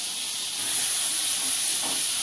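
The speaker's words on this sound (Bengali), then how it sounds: "ডিমটা ভাজে।" Egg frying in hot oil in a home kitchen pan, a steady bright hiss and sizzle that holds close and even throughout, with a faint clink near the end.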